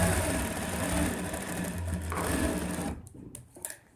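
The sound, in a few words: sewing machine stitching a ladies suit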